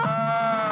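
A man imitates a rooster crowing in a sustained, loud, nasal vocal call lasting under a second, close and alone.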